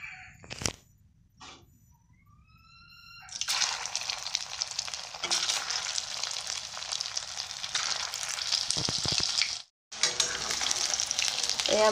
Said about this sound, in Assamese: এতিয়া মাছবোৰে ফ্ৰাই কৰি লওঁ।